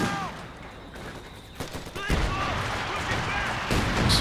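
An artillery barrage in the video game Company of Heroes 2 booms and crackles in a dense, continuous volley of explosions and gunfire that grows louder toward the end, with battle noise filling the background.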